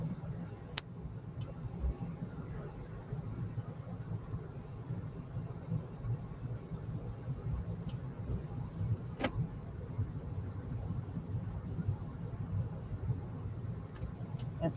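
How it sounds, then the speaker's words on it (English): A car is driven on the road, giving a steady low rumble of engine and road noise inside the cabin, with a few faint clicks and no clear speech. "So I'm driving right now."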